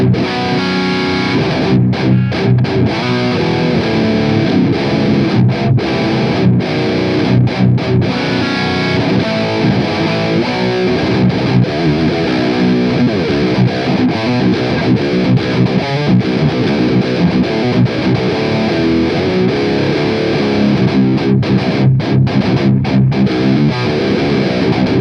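Electric guitar and bass guitar played through an MT15 amp give a thick, deep, guttural distorted tone, loud and continuous with dense sustained chords throughout.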